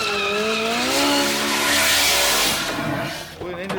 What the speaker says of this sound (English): Well, the engine's doing work.